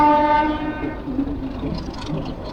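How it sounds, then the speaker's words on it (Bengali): Narayanganj commuter train running between Gandaria and Shyampur Baraitala stations, a loud horn blast at the start fading into steady rumbling wheel and carriage noise, heard alone. "গ্যান্ডারিয়া রেলওয়ে স্টেশন থেকে দুই মিনিটে যাত্রা বিরতি শেষে আমরা এখন যাচ্ছি শ্যামপুর বড়ইতলা রেল স্টেশনের দিকে"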